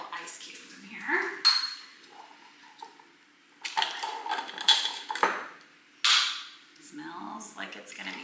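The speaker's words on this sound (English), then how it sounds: "I'm gonna go put a couple ice cubes in here." A couple of ice cubes clinking and rattling into a glass for a chilled drink in a kitchen, several sharp, close bursts of clatter separated by short quiet gaps.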